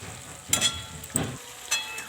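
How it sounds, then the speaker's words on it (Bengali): Potatoes added to a frying spice mix of masala and yogurt, giving three short close sizzling bursts as they are stirred in the hot oil. "এবার আমি প্রথমে আলুটা দিয়ে দেব"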